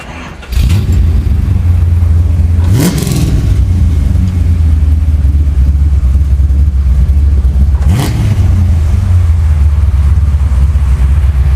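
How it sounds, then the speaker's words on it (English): A Datsun 260Z engine cranks and fires, then settles into a loud, close idle with two sharp revs rising and falling, heard near the exhaust with no talk over it. "you mind starting it up so we can hear that beautiful engine?"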